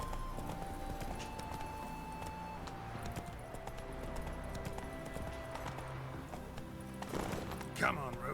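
Hooves of Roach, a horse in The Witcher 3 video game, clip-clop steadily through the clip, moderately loud against game ambience, with a brief louder bump near the end.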